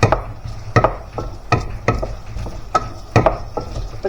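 Potatoes sautéing in hot oil in a home kitchen, with a low sizzle beneath repeated sharp knocks and scrapes of a utensil against the pan, striking at a fairly regular rhythm.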